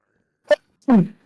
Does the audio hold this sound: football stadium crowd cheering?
no